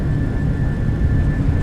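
Jet engines of a PMDG 737-800 in the flight simulator run at takeoff power, a loud, steady roar with a thin high whine riding on top throughout.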